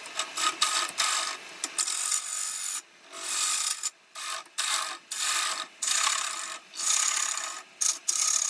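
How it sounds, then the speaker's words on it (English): Negative rake scraper works the inside of a thin-walled pine burl bowl spinning on a wood lathe, giving a dry rasping scrape in repeated short passes broken by brief pauses. "negative rake scraping to get out any little lines"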